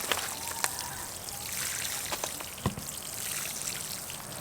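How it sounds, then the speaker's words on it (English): Water pours and trickles onto the soil of a raised garden bed planted with beets and carrots, a steady close splashing with scattered drips. "Nice douse of water"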